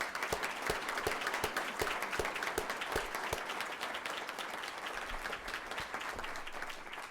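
A room at a city council meeting applauds the council candidates' family members, steady clapping from many hands filling the space for the whole stretch at an even level.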